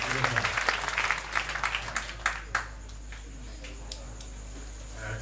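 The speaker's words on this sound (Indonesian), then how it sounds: "tepuk tangan Pak Mustafa" An audience applauds Pak Mustafa at a Mocopat Syafaat gathering with Cak Nun, the clapping strongest at the start, then thinning into scattered claps over a steady room hum.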